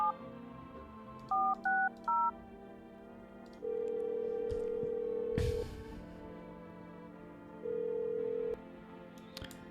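Touch-tone telephone number being dialed in a video game, a quick run of short beeps followed by two longer sustained tones, with a brief clunk between them and no talking.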